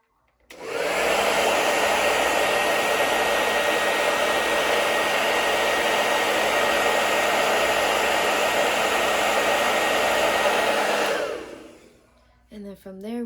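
A heat gun or hot-air blower runs to warm the plastic temple cover of a pair of eyeglasses, a loud steady whooshing roar for about ten seconds before it cuts off, followed by a brief voice.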